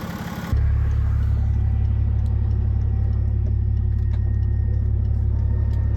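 BMW diesel engine idling with a muffler delete, starting abruptly into a loud, steady low rumble with an even clatter, close and alone.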